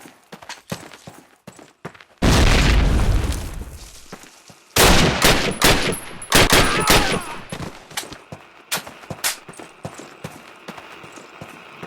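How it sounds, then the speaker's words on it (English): Heavy bombing explosions in the Call of Duty video game, two big booming blasts several seconds apart followed by a string of sharp bursts and crackling gunfire over a wartime battlefield. "Der Feind fliegt Luftangriffe."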